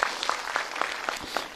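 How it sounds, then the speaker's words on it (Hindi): Audience clapping at a Hindi religious discourse session, a loose scatter of separate claps at a moderate level, fairly steady across a brief stretch with no talk over it. "एक बार ताली बजाओ"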